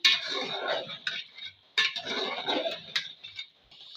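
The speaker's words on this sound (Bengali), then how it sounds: "আবারও আমি নেড়ে দেবো" A ladle scrapes and clinks against a cooking pot as mutton curry with tomato ketchup and fried spice mix is stirred, in repeated close bursts of scraping with short pauses.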